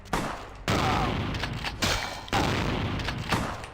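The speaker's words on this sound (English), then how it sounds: "I do love having a shotgun though." Shotgun blasts in the video game Vampire: The Masquerade - Bloodlines, four heavy booming shots spaced about a second apart, each with a short decaying tail, loud and close.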